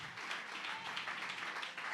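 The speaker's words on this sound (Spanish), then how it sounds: "Denle ese aplauso a Él." A church congregation applauds during a Spanish-language sermon, a short steady wash of clapping throughout.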